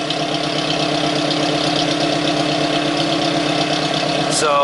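A 2001 Ford Focus ZX3 idles with a full aftermarket exhaust from the headers back and a cat delete, a steady rumbling drone with a throbbing pulse, close and continuous, with a brief sharper noise near the end.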